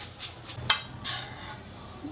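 Dry tamarind and red chillies rattle and clink against a metal pan in short bursts, a few light scrapes and taps close up, fairly quiet.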